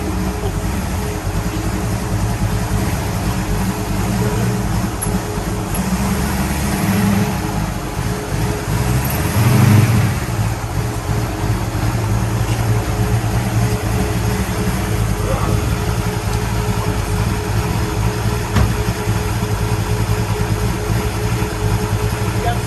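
A 1966 Pontiac GTO engine with a suspected fault runs nearby at a steady, loud, rumbling idle, holding an even drone throughout with a slight swell midway.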